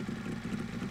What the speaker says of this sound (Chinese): 一辆摩托车。